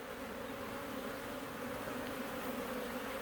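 Honey bees drone steadily at a hive whose comb is being drawn out, a dense continuous buzz held close and loud throughout with no voices.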